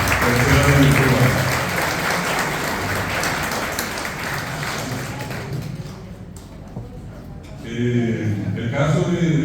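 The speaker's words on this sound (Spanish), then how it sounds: "Este aplauso para la pastora, nuestra tercera directora." A crowd applauds at a fortieth-anniversary celebration of a Guaraní language and culture society, full and steady at first, easing toward the end and then swelling again, with some voices mixed in.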